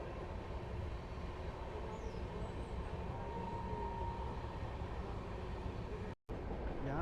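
The 14007 Sadbhavana Express runs along the line near Ghaziabad with a continuous low rumble and rattle of the rolling carriages, steady and fairly quiet, with a brief dropout near the end.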